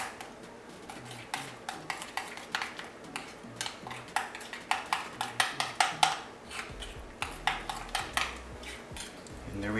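A spoon stirs spices into mayonnaise in a bowl, with rapid rhythmic clinks and taps of metal against the dish. Strokes are close and fairly quiet, with a faint low background hum.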